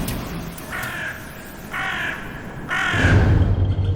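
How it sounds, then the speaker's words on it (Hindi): Crows cawing at night, three loud harsh caws spaced about a second apart, the last one nearer and stronger, over a low rumbling background. "रात में कौवे का का का ऐसा चीख रहे थे।"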